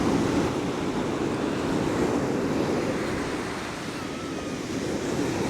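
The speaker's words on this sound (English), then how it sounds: "We have gusts of wind and everything." Wind gusts in Cancun, Mexico buffet the microphone in a loud, broadband rush that swells and eases slightly over several seconds, with no voices.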